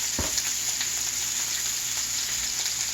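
Salted and peppered steak sears in a cast iron pan with a continuous close, bright sizzle, steady and loud. One soft thump comes near the start.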